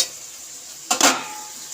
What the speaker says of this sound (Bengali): এটা আমি আবার নেড়ে দিই